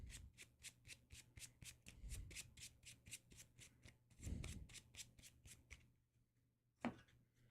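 A deck of playing cards is shuffled at a tabletop Marvel Champions card game, giving a quick, steady run of crisp riffling bursts close by that stops abruptly, followed by a single sharp tap.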